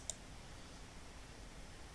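A computer mouse gives one faint, sharp click near the start, then only low, quiet background hiss follows.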